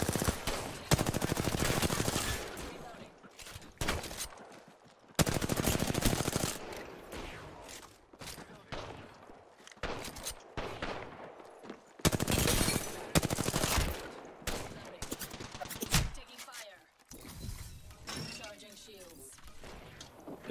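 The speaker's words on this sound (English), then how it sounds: "Ah, they're both using shotguns." Shotgun fire in the Apex Legends video game: a string of loud, sharp blasts in bursts with short gaps between them, mixed under an excited voice talking.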